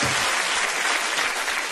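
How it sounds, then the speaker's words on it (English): A studio audience of women claps in dense, continuous applause throughout, loud and close, with no talk on top. "A lot of women clapping there."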